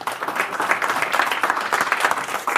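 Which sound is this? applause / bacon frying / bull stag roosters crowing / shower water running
applause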